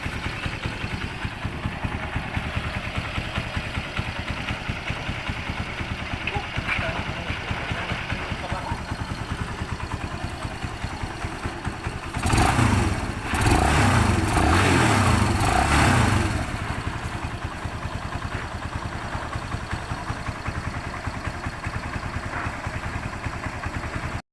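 A repaired motorcycle engine, fixed after a faulty pulser, idles steadily and close by, with a brief louder surge of revving in the middle before it settles back to an even idle.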